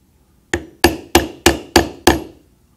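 Six sharp mallet strikes land evenly on a stamping tool pressing flower designs into leather, close and crisp with quick decays, in a steady rhythm and with no talking.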